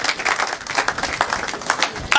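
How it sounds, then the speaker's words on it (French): A crowd at a political gathering applauds for the UDPS party with steady clapping and cheering throughout, a dense wash of hands and voices that swells briefly near the end. "Acclamons pour l'UDPS."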